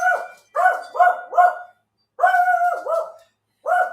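A large dog barks loudly and close by in several bursts of two or three sharp barks, separated by short pauses, with no talking.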